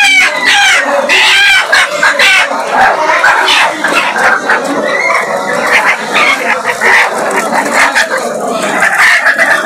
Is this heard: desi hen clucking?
yes